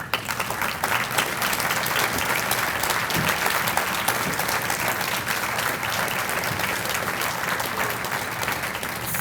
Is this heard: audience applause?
yes